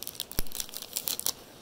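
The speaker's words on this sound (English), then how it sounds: "Let's get this second pack open here." Brief crinkly tearing of a 2020 Topps Series 1 baseball card pack's foil wrapper, a quiet, close rip lasting under two seconds with no voice over it.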